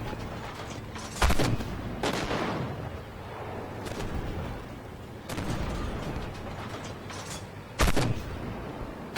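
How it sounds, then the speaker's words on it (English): A tank fires in the video game Armored Warfare, with several loud booming shots spaced seconds apart over a continuous rumbling battlefield background. "And I'm reloading now."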